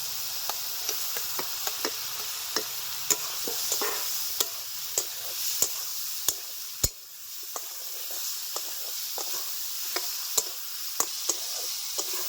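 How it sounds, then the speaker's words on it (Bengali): Vegetables and spices sautéing in a pan for a village-style crab curry, with a steady broadband sizzle broken by regular sharp knocks and scrapes of a spoon stirring against the pan, close and continuous without speech. "সবজিগুলিকে আমি ভালো করে কষিয়ে নিয়ে নিয়েছি"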